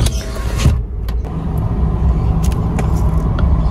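Mitsubishi Mirage G4 with electronic power steering idling steadily while the wheel is turned, a close, even engine rumble with a faint whir and a few brief clicks, no voices.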